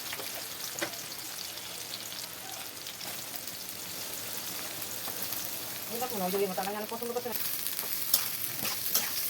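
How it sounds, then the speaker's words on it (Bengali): About 500 grams of chopped onion fries in oil on low heat for chicken kosha, making a continuous soft sizzle with occasional stirring clicks and a faint voice-like murmur partway through. "পেঁয়াজটাকে নেড়ে চেড়ে কম আঁচে তেলের মধ্যে ভেজে নিচ্ছি 5 মিনিট সময় নিয়ে"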